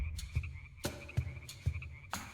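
A Bale Mountains tree frog croaks in moist high-altitude grassland, giving four sharp, close calls at an uneven pace over a steady thin insect-like whine.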